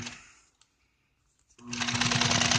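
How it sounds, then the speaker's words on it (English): A sewing machine lock stitching a seam in automotive seat upholstery: near silence at first, then loud, steady, rapid stitching runs continuously from the middle to the end. "Lock stitch again at the end."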